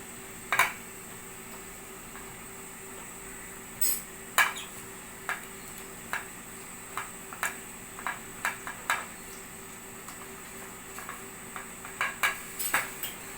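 A cooking vessel for a pressure cooker, readied for steaming coriander-stem vadi batter, is handled and greased with oil: scattered sharp metallic clinks and taps, some close and bright, repeated irregularly over a quiet kitchen background.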